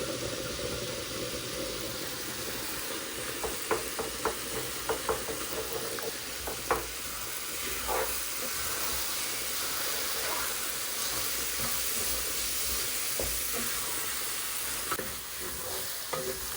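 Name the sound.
eggs frying with cabbage in a pan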